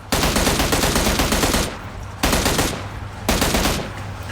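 M16 rifle fired in PUBG, three loud sustained bursts of rapid automatic fire separated by short gaps, close and alone with no talk.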